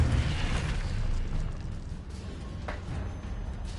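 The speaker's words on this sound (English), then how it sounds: "Incendio." An Incendio fire spell cast in a Harry Potter video game, a muffled rumbling burst of flame that swells at the start and then fades into a low, steady roar, with no talking.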